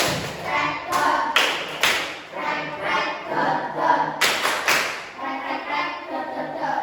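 Classroom students clapping together in a counted rhythm pattern, sharp group claps in short bursts and spaced accents, loud and close, with voices faintly mixed in.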